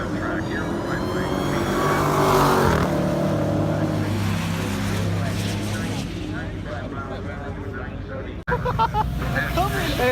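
A race car roars down the track at Irwindale Speedway at night, its engine swelling loud and then fading into a distant drone, with voices talking over it.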